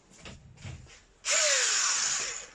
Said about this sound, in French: donc là, on va faire un avant-trou